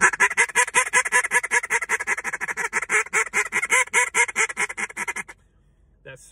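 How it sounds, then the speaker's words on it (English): A duck call run through a rolling feed chatter, a rapid continuous string of loud, close quacking notes in a steady rolling cadence that stops abruptly near the end. "when you mix it in with a rolling feed chatter, it's going to sound something like this."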